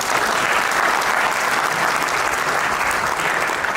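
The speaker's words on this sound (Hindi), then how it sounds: "इनके लिए जोरदार तालियां" A large audience in a hall at a cryptocurrency seminar gives loud, continuous applause, a dense, even roar of many hands clapping throughout with no pauses.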